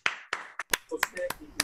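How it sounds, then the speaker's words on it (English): A few scattered hand claps from a small group honor two presenters at an open culture presentation, sparse and uneven, with voices talking over and between them. "Everybody, one more round of applause for Jeff and Denver."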